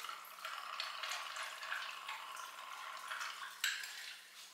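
Vodka poured into a glass of ice for a seltzer sour cocktail, a steady close trickling splash running about four seconds, with faint clinks of ice, and no talking.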